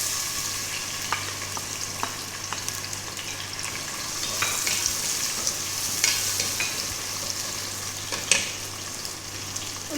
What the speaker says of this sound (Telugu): పెద్ద ఉల్లిపాయ చిన్న ముక్కలు కట్ చేసుకుని వేసుకుంటున్నాను